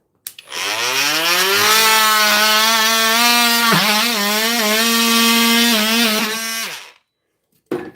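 A cheap power saw plunge-cuts into a piece of wood laid flat, its steady motor whine rising as it bites into the board. It runs loud and close for about six seconds, then cuts off.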